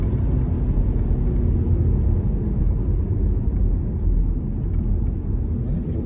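Audi A4 allroad Quattro 2.0 TDI, 190 hp S-tronic, 2020, heard from inside while driving and braking into a curve: a steady, loud low engine and road rumble that continues with no break.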